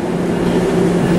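An Amtrak ALP-46 electric locomotive rolls through Trenton Station, giving a steady, loud rumble with a low drone and no break across the short stretch.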